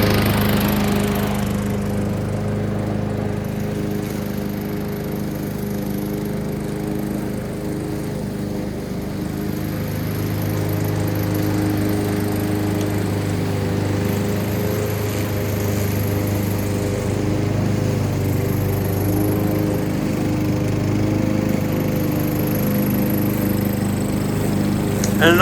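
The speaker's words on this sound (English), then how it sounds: "this is a mulching mower" A Honda HRX 217 mulching push lawn mower runs steadily and loudly at close range, a constant droning engine note that barely changes over the whole stretch.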